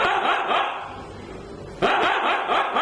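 A voice imitates a dog barking, giving a series of close, loud barks with a short gap before a final burst.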